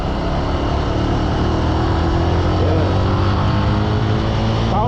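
A 150cc motorcycle engine runs close by with a loud, continuous buzzing drone and slight shifts in pitch, alone with no talking.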